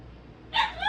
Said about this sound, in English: might hear my dog outside crying for me